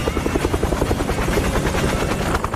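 Loud, steady rhythmic thudding of helicopter rotor blades with a constant engine whine, continuous throughout.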